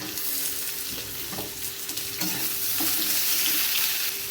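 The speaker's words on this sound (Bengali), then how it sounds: "পেঁয়াজ আর আলু যতক্ষণ ভাজা হচ্ছে" Sliced potato and a chopped large onion fry in a pan with a steady, close sizzle, broken by a few scraping stirs; no one speaks.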